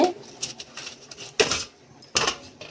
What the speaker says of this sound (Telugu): ఈ కొస కట్ చేసి పడేయాలి